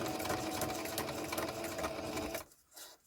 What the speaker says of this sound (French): la machine à coudre elle est sortie, et en route